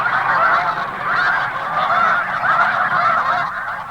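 A dense flock of snow geese near banding pens, honking continuously in a loud, overlapping chorus that carries without pause.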